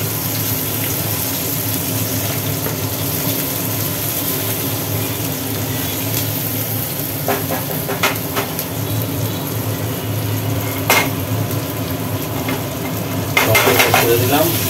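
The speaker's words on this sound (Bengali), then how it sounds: "একটু নাড়ি করি, আস্তে একটু ভাজি ভাজি হলে" Fish head and cabbage fry in a pan with a steady sizzle while a utensil stirs and scrapes against the metal in scattered clinks, growing a bit louder toward the end, with no voices.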